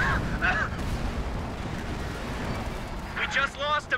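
Incoming enemy artillery fire in the strategy game Company of Heroes 2, in a 1v1 match: a low, rumbling roar of shelling and explosions that sustains throughout, with game voice lines heard over it at start and end.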